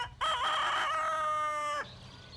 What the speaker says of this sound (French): Tous les matins, la basse-cour se réveille avec le chant du coq.